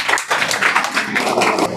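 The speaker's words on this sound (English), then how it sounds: "Let's welcome with a huge round of applause." An audience claps to welcome a student speaker onto the stage at a school Independence Day speech competition, a fairly loud, uneven burst of hand claps lasting throughout.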